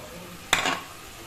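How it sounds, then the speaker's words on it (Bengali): Fried eggs dropped into a simmering egg mustard curry in a pan, giving a single short splash and sizzle over a faint background hiss. "এরপর এর মধ্যে ভেজে নেওয়া ডিমগুলো দিয়ে দিচ্ছি"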